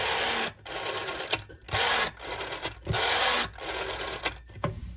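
An LM Ericsson DBH 1505T telephone's spring-mounted gear mechanism, stiff and in need of oiling, runs in repeated whirring, rasping bursts about a second long, separated by short pauses, close and fairly loud.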